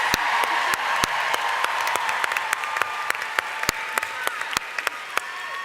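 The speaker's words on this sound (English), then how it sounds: "Can you give these CEOs a big round of applause?" Loud applause from a crowd at a company national training event, continuous clapping from many hands with a few sharp, close individual claps standing out above the steady wash.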